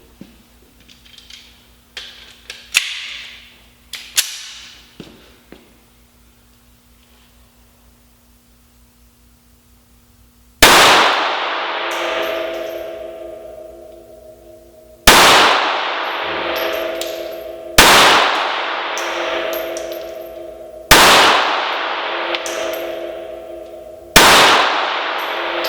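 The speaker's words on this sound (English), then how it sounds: "now we're going to shoot the brand new Ruger LCP II." Ruger LCP II .380 ACP pistol firing outdoors: five sharp, loud shots spaced a few seconds apart, each with a ringing decay, after softer clanks and handling noises.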